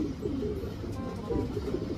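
Racing pigeons coo in low, repeated murmuring calls close by, overlapping steadily throughout against a soft loft background.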